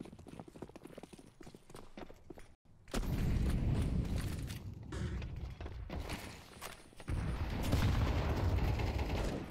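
Counter-Strike match on the Overpass map: a grenade blast followed by bursts of rapid gunfire, the rattling shots loud and dense in two main stretches with a brief lull between them.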